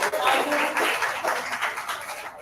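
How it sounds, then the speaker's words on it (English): An audience at an AI conference in Hyderabad claps for a named attendee, a moderate patter of hands heard under a voice talking over it. "Please give a big round of applause to Tejasvi."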